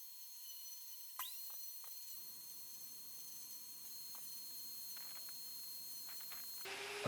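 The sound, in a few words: power carving unit sanding wooden toy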